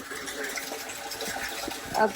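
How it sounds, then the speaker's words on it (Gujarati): Water gushes steadily from a motor pump pipe into a farm tank, a continuous close splashing rush that swells slightly near the end. "પાણી આવી ગયું પાણી આવી ગયું છે"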